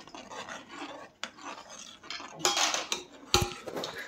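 Metal spoon scraping and clinking against a pot while milk is stirred for rasmalai at home, with soft repeated rubbing strokes and a few sharper metallic knocks.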